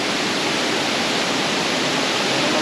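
Sungai Pandan Waterfall in Kuantan, Pahang, Malaysia roars as a loud, constant broadband rush of falling water, near and unbroken, with no other sounds standing out.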